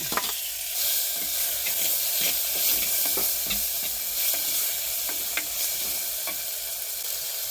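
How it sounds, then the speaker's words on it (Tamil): Onion and tomato sauté in a pan over a steady, close sizzle of frying, with occasional stirring scrapes and clicks running throughout, no talk. "தக்காளி நல்லா வதங்கட்டும்"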